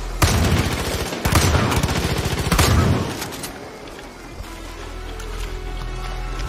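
Rapid bursts of automatic gunfire from a Far Cry 5 firefight, loud, close volleys in the first three seconds, then tailing off into a lower rumble and ambient noise, with no talking.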